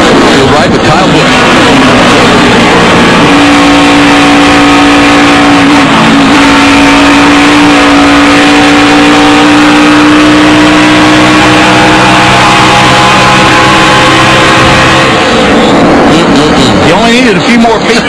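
An onboard view of a NASCAR Nationwide stock car at Charlotte, its loud engine roaring continuously and climbing in pitch as it accelerates, with a commentator talking over it.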